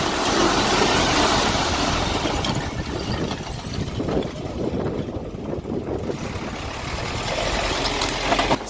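Trucks haul construction debris at a project site, their engines rumbling and idling loudly and steadily with mechanical clanks, a heavy continuous drone that dips slightly midway.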